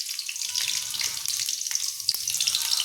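Mustard seeds, chana dal and cumin dropped into hot oil, a bright, close, continuous sizzle with crackling pops throughout, loud and unbroken.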